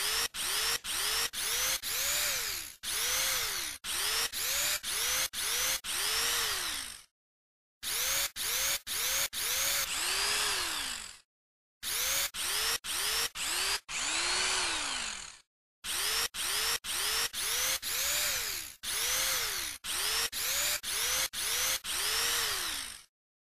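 Loud power drill revving in repeated bursts, each whine rising and falling in pitch, with brief pauses between runs; no voices.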